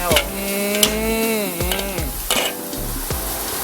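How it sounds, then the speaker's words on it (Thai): Dory fish being stir-fried with two spatulas at a Friday street market in Kham Thale So, Thailand: a steady sizzle with metallic scrapes and clacks against the pan, plus a sustained tonal hum. "ตอนนี้เรามาชมผัดปลาดอรี่"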